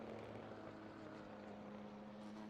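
Helicopter camera sound in the iRacing sim during a 24 Hours of Nürburgring race, a steady low droning rotor hum with a constant tone that stays even and fairly faint throughout.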